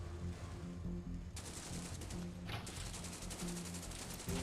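Rapid rifle fire from a skirmish in the mobile strategy game C&C Rivals, with dense overlapping shots and bursts crackling continuously over game music, growing busier partway through.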